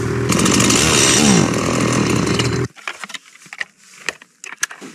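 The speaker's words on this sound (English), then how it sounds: "my chainsaw won't start" A snow-dampened chainsaw with water in its engine roars loudly for a few seconds, then abruptly cuts out. Only sputters, clicks and scattered rattles follow as it fails to keep running.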